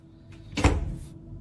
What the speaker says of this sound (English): With banging noises on the door that loud